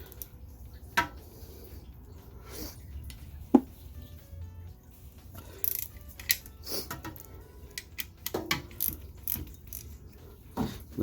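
A ratchet wrench loosens the belt tensioner on a Subaru engine, intermittent quiet clicking and mechanical clunks up close, with a few sharper knocks scattered through the quiet stretches.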